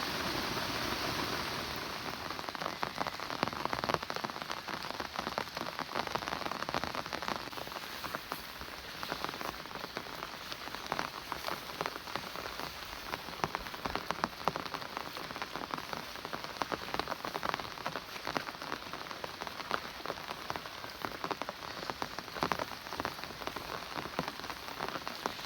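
Heavy rain pours steadily on a rural Thai jungle campsite during a three-day downpour, a dense, constant hiss of drops striking surfaces that runs unbroken throughout with no voices.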